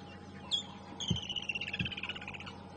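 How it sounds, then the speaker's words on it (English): Buffalo weavers chatter in a steady run of high, buzzy calls and trills at sunrise on an African safari drive, with a couple of low thumps partway through and no talking. "The birds you've been hearing chattering away are the buffalo weavers."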